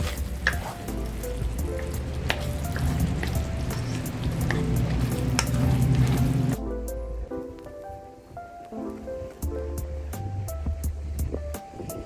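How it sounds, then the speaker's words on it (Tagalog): Pork giniling menudillo fries and is stirred in a pan. A busy sizzle runs with scraping and clanks, then drops to a quieter simmer broken by sharp utensil taps; no voices. "Medyo haluin lang natin ang bahagya"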